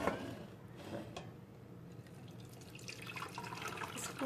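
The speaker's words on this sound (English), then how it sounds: "pour it into this gravy separator." Pot roast cooking liquid poured from a pressure cooker pot into a gravy separator, a quiet continuous trickle and splash of liquid with faint clinks, no talking.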